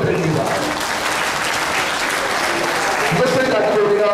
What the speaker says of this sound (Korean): 하나님께 영광의 박수 한번 올려드립니다